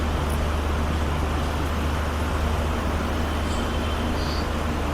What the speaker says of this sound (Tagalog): Umalis na po yung tren.